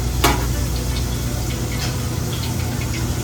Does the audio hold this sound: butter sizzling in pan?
yes